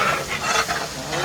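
Sliced onions fry in hot oil in a large pot for a thousand-guest Kerala wedding feast, a loud, dense sizzle with scraping stirring strokes surging and easing over a brief moment.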